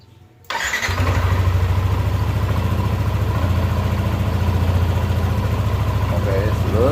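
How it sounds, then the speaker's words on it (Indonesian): A Yamaha NMAX scooter engine catches after an oil change and settles into a steady, loud, close idle with a fast even putter. "Sekarang kita melakukan engine start atau menghidupkan motor ya."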